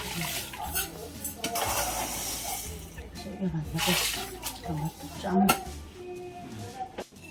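Coarse salt water being stirred in a bowl for dongchimi, with clinks of a utensil against the dish and watery swishing under close conversational talk in a home kitchen.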